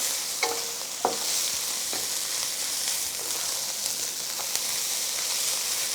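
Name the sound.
rice toasting in a hot pan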